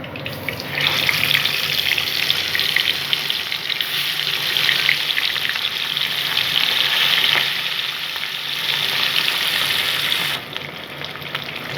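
Hilsa fish pieces fry in plenty of hot oil, a steady loud sizzle with dense crackling and popping spatters running the whole time with no voices, then dropping off slightly near the end.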